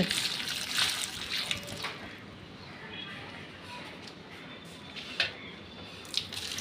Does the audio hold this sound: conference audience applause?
no